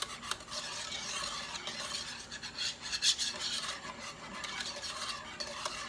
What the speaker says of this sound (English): This is one of those desserts where you can't stop stirring it.